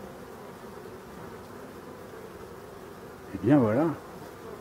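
Honeybees hum steadily at professional hives fitted with a strawberry net meant to keep hornets away. The drone is continuous and moderately loud throughout, and a short spoken phrase cuts in briefly near the end.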